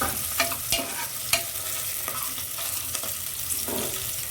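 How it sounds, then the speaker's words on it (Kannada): Onions fry until brown for vegetable sambar, giving a soft, steady sizzle in a pan. Several sharp clicks and scrapes of stirring break through at intervals, fairly close and moderately quiet. "ಈ ಥರ ಕಂದು ಬಣ್ಣು ಬರಬೇಕು ಈರುಳ್ಳಿ ಚೆನ್ನಾಗಿ"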